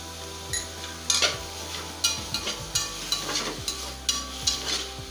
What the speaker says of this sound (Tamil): தக்காளி நல்லா வதங்கிறதுக்கு கொஞ்சம் உப்பு போட்டோம்னா நல்லா வதங்கிடும்